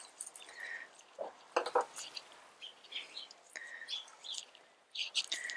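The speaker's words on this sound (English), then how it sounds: "So there's sparrows and there's doves." Local sparrows and doves at feeding time by scattered grain, giving faint, scattered chirps and short calls at a modest distance in a quiet outdoor setting.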